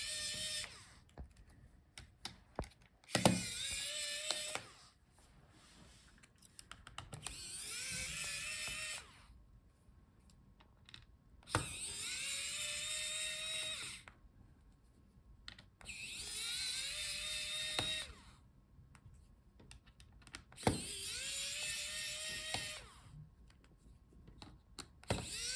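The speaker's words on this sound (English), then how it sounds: "now let's take out all the screws." An electric screwdriver backs screws out of a Dell Latitude 7440 laptop in repeated whirring bursts of a few seconds each, the pitch rising as each spins free. Quiet pauses and small clicks fall between bursts.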